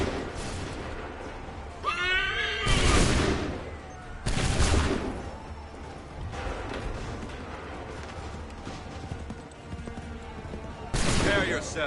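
Musket volley fire in the video game Assassin's Creed 3: several loud, broadband blasts crack out at intervals, with horse whinnies, battlefield clatter and shouted voices running underneath.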